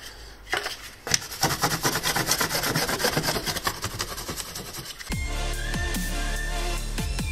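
Edges being roughened up by hand sanding: steady rhythmic scraping strokes, close and fairly loud, for about five seconds, then a change to a different, smoother sound.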